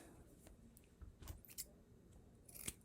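Scissors snip through fabric being cut for a no-sew doll skirt, giving a few soft, close clicks and crunches spread over a quiet background.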